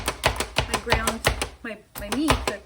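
Pampered Chef chopper pressed repeatedly on food for homemade hamburger helper: a fast, steady series of sharp clacking thumps, close and loud, broken by a brief pause before the chopping resumes with a voice talking faintly underneath.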